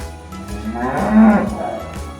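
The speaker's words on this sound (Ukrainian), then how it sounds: "А хто в нас мукає? Корівка." A cow moos once, a long low drawn-out call that swells in the middle and fades, heard clearly with no talking.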